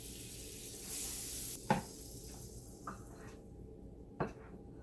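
Pancake batter and butter sizzling in a pan on a home stove, a soft continuous fry under quiet clinks and scrapes of a utensil against the pan.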